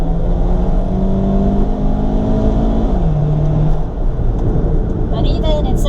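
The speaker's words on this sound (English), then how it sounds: "even in second gear, you're still getting a good amount of engine noise" A 2002 Toyota Celica GTS automatic drones loudly at high revs in second gear, its pitch holding steady then dropping a step, with road and wind roar underneath.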